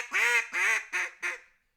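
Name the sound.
hail call blown on a duck call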